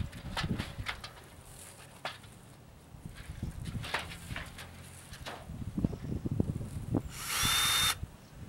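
A power drill buzzes in several short bursts with pauses between, close by, ending in a longer high-pitched whir, while building a raised garden bed.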